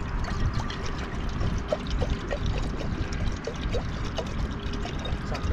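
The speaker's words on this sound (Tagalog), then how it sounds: "Lagyan na po natin ng tubig." Water poured into a cooking pot outdoors, a continuous splashing pour with a trickling, bubbly texture, steady and close, with some wind noise beneath.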